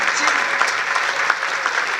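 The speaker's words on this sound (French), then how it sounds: "on peut applaudir bien, Tous les sponsors." Audience applause for event sponsors, a dense and steady wash of many hands clapping, fairly loud and close, with no voices standing out above it.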